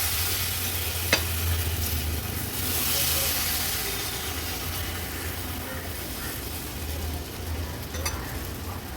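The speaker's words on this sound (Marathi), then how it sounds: "खूप जाड नाही आणि खूप पातळ नाही असे आपण हे मालपोहे ह्या तेलावर सोडले आहेत।" Malpua batter sizzling steadily in hot oil on a tawa over a high flame, a constant loud frying hiss with a couple of soft clicks and no talking.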